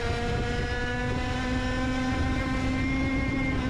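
Racing kart engine held at high revs, a loud, steady buzzing drone with a strong harmonic whine that holds constant pitch and level from start to finish, close by and with no talk.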